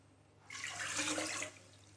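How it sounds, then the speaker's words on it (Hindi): Water is poured from a cup into a cooking pot of sugar to make sugar syrup, a steady splashing pour lasting about a second, fairly close and alone. "उसी प्याली से मेजर करके हम 2 प्याली इसमें पानी डाल देंगे"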